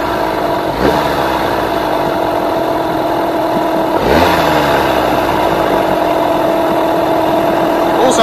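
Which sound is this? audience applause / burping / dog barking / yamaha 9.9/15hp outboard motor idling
yamaha 9.9/15hp outboard motor idling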